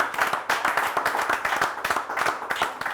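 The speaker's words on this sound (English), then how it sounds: "big round of applause for Shantanu." Audience applause for a quiz contestant at a grand finale, dense and steady clapping from a crowd that holds for the full few seconds with no voices over it.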